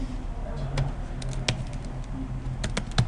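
Keys tapped on a computer keyboard, a handful of sharp, irregular clicks scattered over a faint background hum, nearby and fairly quiet, with no talking.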